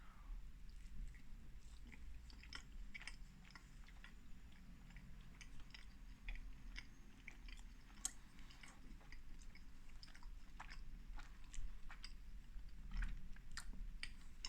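Someone eating Soreen malt loaf spread with thick butter, soft close chewing and small moist mouth clicks repeating steadily for several seconds in a quiet room, with no talking.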